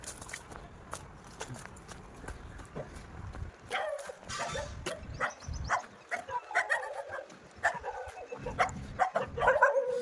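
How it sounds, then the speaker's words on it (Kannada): Dogs bark and yip in short bursts, several voices overlapping at middle distance, with some shuffling steps in between. "ನಾಯಿಗಳೆಲ್ಲ ಓಡಿಸ್ಕೊಂಡು ಓಡಿಸ್ಕೊಂಡು ಬರ್ತಾವಲ್ಲ ಗುರು"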